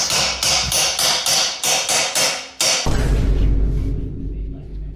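A hammer hits a socket welded onto a rounded-off bolt on a BMW M4 exhaust, with about eight loud, evenly spaced metallic strikes close by, then a low rumbling clatter as the strikes stop.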